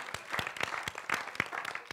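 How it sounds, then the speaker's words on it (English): An audience at an agile conference session claps in a thin round, with distinct individual hand claps at a quick, irregular rhythm, fairly faint and distant. "Claps, please."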